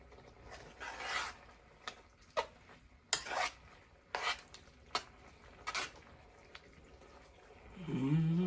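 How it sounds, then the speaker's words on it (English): A spoon scrapes and clinks against a pot while seafood sauce is stirred, giving irregular close knocks and rubbing strokes that are loud in bursts with brief pauses between them. "we're going to stir it on in."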